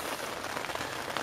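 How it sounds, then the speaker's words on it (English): Steady rain falls outdoors, a dense close patter of drops on hard surfaces filling the whole moment with a continuous splashing hiss. "It's still bloody raining."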